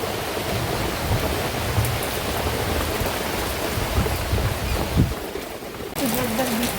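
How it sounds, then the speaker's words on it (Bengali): Steady rain hisses throughout, a dense continuous patter with a few low thumps and faint sounds mixed in. "আর এই বছর বৃষ্টি হচ্ছে"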